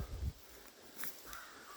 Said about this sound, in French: nos amis les corbeaux qu'on entend bien sûr